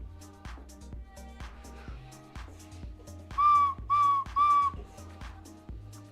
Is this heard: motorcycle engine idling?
no